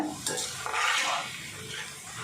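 Freshly fried kara sev, a crunchy gram-flour snack, crackling as it comes up out of hot oil, with brief close scraping and rustling clatter of a metal ladle over a soft sizzle.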